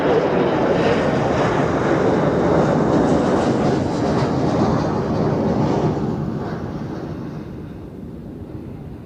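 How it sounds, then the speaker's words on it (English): Helvetic Airways Embraer 195 jet passing at Zurich Airport, a loud broadband roar that holds steady and then fades as it moves away, with no voices. "So, second Helvetic Embraer,"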